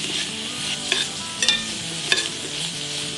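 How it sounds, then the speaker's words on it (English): Sautéed asparagus sizzles in a hot pan, a continuous frying crackle broken by a few sharp stirring clatters as the spears are tossed, close and with no speech. "let it simmer a little bit more, and we're ready to serve."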